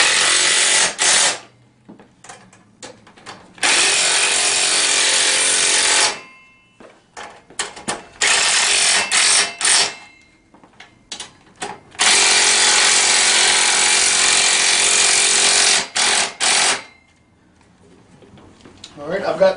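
A power tool tightens bolts while a TaoTao Mini 110 ATV is assembled, giving loud, close whirring runs of several seconds each, broken up by short pauses and quick stuttering bursts.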